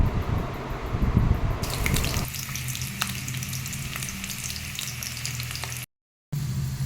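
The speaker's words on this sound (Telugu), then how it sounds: "జీలకర్ర, వెల్లుల్లి, ఆనియన్, కరివేపాకు వేసుకొని ఫ్రై చేయడం అయితే అయిపోతుందండి" Mustard seeds, cumin, garlic, onion and curry leaves frying in hot oil for a tempering, giving a loud steady sizzle close by that stops with a brief cut near the end and then resumes.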